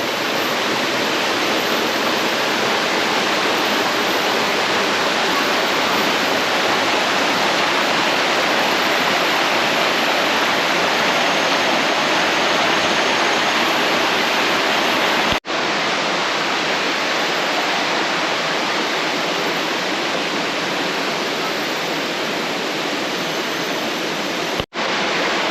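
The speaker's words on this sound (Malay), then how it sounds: "sungai dia macam ni, cantik. Memang natural, hidup." River rushing over rocks beside a campsite in Kalumpang, a steady, loud, broadband roar of churning water that continues unbroken and close to the microphone, with no voices.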